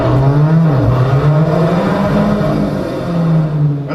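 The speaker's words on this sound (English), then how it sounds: "the distinctive Alfa Romeo 4C exhaust note, produced by a specially tuned exhaust" Alfa Romeo 4C Spider with a specially tuned, muffler-free exhaust at the Detroit Auto Show, giving a sustained raspy engine note that rises and dips through a couple of revs over several seconds.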